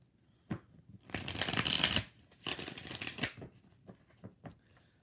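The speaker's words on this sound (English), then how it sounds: "2 more shuffles." Tarot cards being shuffled close up, two loud riffling bursts of about a second each, followed by a few softer taps and card flicks in an otherwise quiet room.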